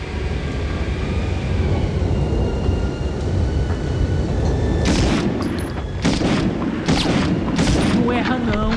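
Grenade blasts in the Medal of Honor PlayStation game, a low rumbling boom under steady game noise followed by several sharp bursts of loud gunfire toward the end.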